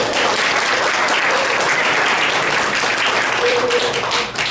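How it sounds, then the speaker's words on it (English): A crowd at a Hmong veterans' gathering in Alaska gives a sustained round of applause, dense and steady clapping that fills the room for several seconds before easing slightly at the end. "Could we get one more round of applause for Mr."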